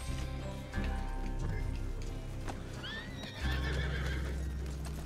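A horse whinnies amid galloping hoofbeats over a low rumbling Red Dead Online soundtrack, with sharp clicks and effects layered on top.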